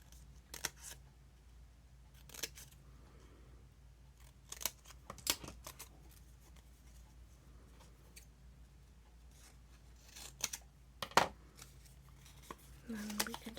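Scissors snip through magazine paper for a junk journal, giving a few sharp, close cuts separated by quiet pauses and soft paper handling.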